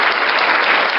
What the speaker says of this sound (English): Ang ganda ng clap ni Sir Ron.